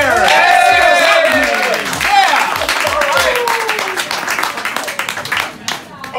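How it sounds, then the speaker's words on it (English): Audience applause and cheering for a stand-up comedian in a comedy club, a dense burst of clapping that thins out over several seconds, with voices shouting through it. "that's like the biggest round of applause I got since I came out of the closet 2 years ago"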